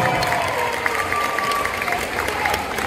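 Festival audience applauding at the Madin' Japan Festival 2023, a dense wash of clapping mixed with crowd noise and a faint voice, steady for a few seconds.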